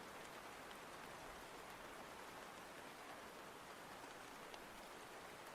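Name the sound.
rain sound effect on a stream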